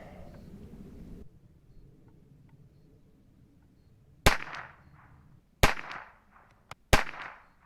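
Four sharp, fairly loud rifle cracks from an Academy Monarch .22LR rifle, spaced about a second or more apart with short echoing tails, after a brief stretch of low background noise.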